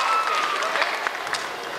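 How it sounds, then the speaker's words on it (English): Applause and crowd noise for a lookalike contest winner at a 1990 party, a moderate wash of clapping with a faint whistle-like tone near the start and light murmuring underneath. "Ladies and gentlemen, one more round for a round of applause for our winner, Brett."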